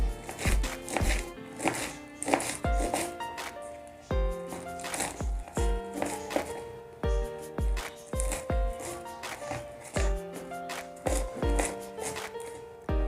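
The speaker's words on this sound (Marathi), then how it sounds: "बघा, अशी मेथी कापून घ्यायची" A knife finely chopping fresh fenugreek (methi) leaves on a board, with close, crisp, rhythmic chops coming in quick bursts separated by short pauses, heard alone.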